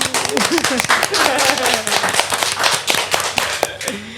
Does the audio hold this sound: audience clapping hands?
yes